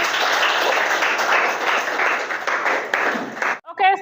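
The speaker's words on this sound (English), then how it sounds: "Give applause for this." Classroom applause for a student group's presentation, dense clapping from many hands, loud and steady for over three seconds before stopping abruptly, followed by a brief voice.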